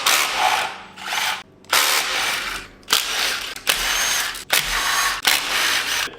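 A power tool takes the bell housing bolts off an FMX transmission on a turbo F100, sounding in about six loud, close bursts of whirring and ratcheting, each separated by a short pause.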